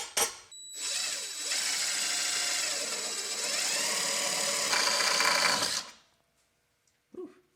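A power drill bores a pilot hole into a RAM Promaster 1500 van for mounting a LUVERNE step, a steady loud whir lasting several seconds that shifts pitch slightly, then stops, followed by a brief clunk.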